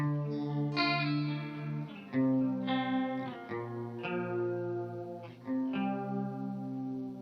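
Electric guitar notes and chords run through a Walrus Audio Fundamental Chorus pedal with the mix turned up, giving a wide, shimmering, wavering tone; several separate phrases with sustained ringing, close and clear, no talking.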